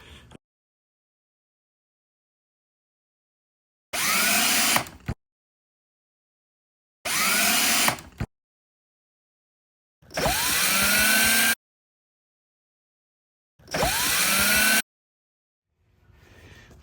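Power drill driving screws into a winglet on a Lexus RC F, four separate bursts of high whirring, each a second or so long with a pitch that drops as the screw bites, separated by silence.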